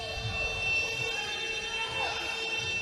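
A basketball shot clock buzzer sounds during a men's inter-varsities final game, a loud sustained electronic tone over gym noise.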